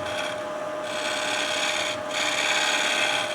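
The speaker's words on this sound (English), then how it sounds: "A little scraping motion on it there." A fresh-cut wood turning is scraped on the lathe with a tool, giving a steady, continuous rasping rub that holds close and even throughout, with no talk.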